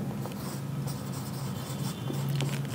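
Pen scratching steadily on paper or a board during a taxation lecture, a close, continuous scraping with short strokes, heard alone with no talking over it.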